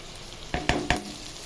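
Capsicum and cabbage are tossed into softened onions in a hot pan, three sharp scraping stir strokes in quick succession over a steady, close sizzle of frying.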